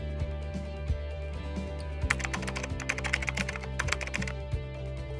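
Rapid fingertip taps on an iPhone screen covered with a protective film, a dense run of light clicky strikes over a steady low background hum, with no voices.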